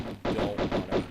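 An enemy firing magnum pistols in Tomb Raider's Natla's Mines, a quick run of four close, punchy shots in fast rhythm.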